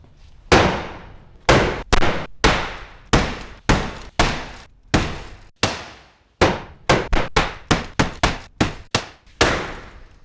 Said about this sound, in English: Made it up to 20 hits there, and we still haven't managed to push the glass out